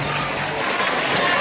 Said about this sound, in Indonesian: Tepuk tangan untuk Sumatera.